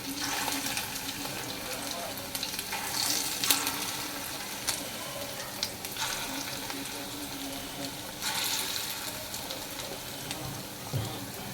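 Prawn fritters sizzle steadily in hot oil in a home kitchen pan, a soft constant crackle with occasional clinks and stirring, while people talk quietly in the background.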